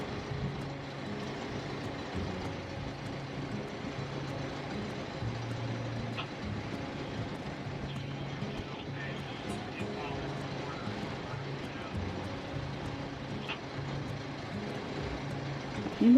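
Boat engines drone steadily while a sailboat motors between Florida Keys anchorages, a low continuous rumble with faint background noise throughout.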